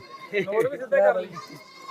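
Goats bleat at a livestock market where Barbari goats are traded, a couple of wavering calls close by, mixed with the murmur of people talking nearby.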